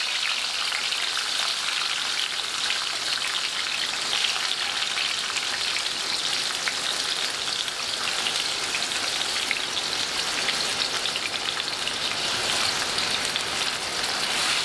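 Tomatoes and red or orange peppers fry in oil in a pan with a steady, even sizzle that carries on without a break and without talk.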